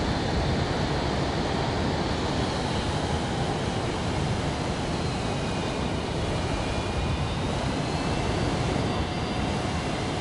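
An aircraft coming in to land in Microsoft Flight Simulator 2024 gives a loud, steady engine roar and rushing wind noise, continuous and unbroken for the whole stretch.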